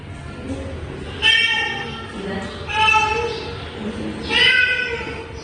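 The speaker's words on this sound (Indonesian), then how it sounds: "Suara kucing" Three drawn-out cat meows come in turn over a low background of room noise, each rising and fading, spaced about a second or more apart.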